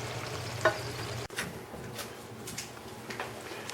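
Barberries (zereshk) gently moved around a pot with a spoon for zereshk polo give soft scraping and light sizzling, broken by one sharp knock, close and fairly quiet.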